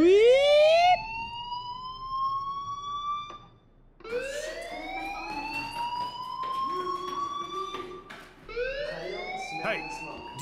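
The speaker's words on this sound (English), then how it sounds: "Hey, do you hear that fire alarm?" Fire alarm siren from the video game Life is Strange, rising in repeated electronic wails, loud and close, three sweeps with a brief gap, with faint talk underneath.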